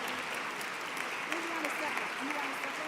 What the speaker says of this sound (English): Please stand, give them a round of applause.